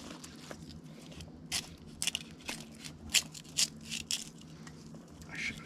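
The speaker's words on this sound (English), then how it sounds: "We're going to cut along the backbone." Knife slicing along the backbone of an albacore tuna, with a handful of short, crisp cutting and crackling strokes over a low steady background hum, fairly close.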